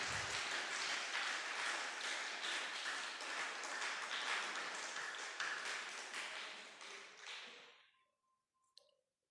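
Sustained applause from the audience at a mushaira honouring poets at M A H Inter College, Gazipur, loud and dense for about eight seconds before cutting off into near silence with a faint tone and a single click.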